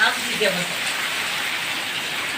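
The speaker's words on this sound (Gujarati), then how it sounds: "પવન ને વરસાદ બધું ભેગું છે" Steady winter rain hiss with gusting storm wind throughout, fairly loud and constant, a brief low voice-like murmur near the start.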